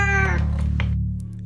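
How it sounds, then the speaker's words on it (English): A cat loudly meows in a single drawn-out, tonal call close by, followed by a few fainter soft sounds over a steady low hum. "looking intently at Magpie and meowing loudly"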